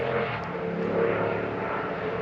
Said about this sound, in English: And there's a motorbike coming along.